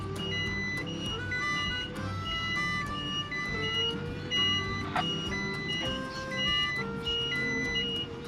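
Repeated electronic reversing beeps in a steady rhythm from a truck, over a low engine hum, nearby.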